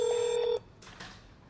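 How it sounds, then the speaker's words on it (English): A short electronic phone notification chime for a NEXhome cloud video intercom call sounds for about half a second, then cuts off, leaving faint noise and a couple of soft clicks. "When a call is placed, your phone will receive a notification."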